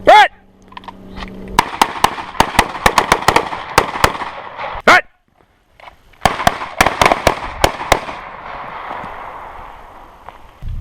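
Rapid bursts of handgun fire during a low-light defensive shooting drill, sharp loud shots in two quick strings separated by a brief pause, with a short voice at the start.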